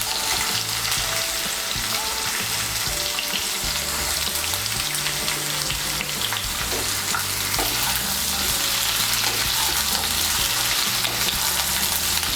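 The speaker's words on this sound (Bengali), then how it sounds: "পটল আর চিচিঙ্গাটাকে একটু নেড়ে নিয়ে এর মধ্যে আমি দিয়ে দেব কেটে রাখা ঝিঙ্গেটা" Pointed gourd, snake gourd and ridge gourd sizzle steadily while being stirred in a pan for a vegetable curry with lentil fritters. The frying is continuous and close, with occasional stirring scrapes and a low tonal hum underneath.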